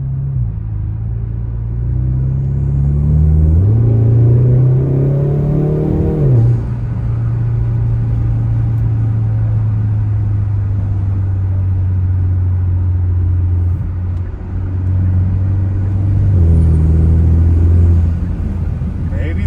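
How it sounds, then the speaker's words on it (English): A Hyundai Sonata N Line with an upper charge pipe mod drives, its engine rumbling as it revs and shifts, while someone talks over the low drone. "Turbo's louder. I think that swooshing sound may be a little bit louder."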